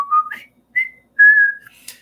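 Someone whistles the Colonel Bogey March tune, four clear melodic phrases with short gaps between them, close and solo with no talking.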